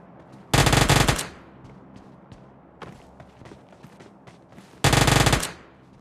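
Two loud bursts of automatic gunfire in a mobile shooter game, each lasting under a second and well apart, with faint scattered clicks and shots between them.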